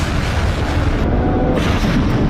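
A loud, deep explosion from a Russian attack in Ukraine booms and rumbles across the full width of the sound. The roar stays sustained for about two seconds and dips briefly partway through.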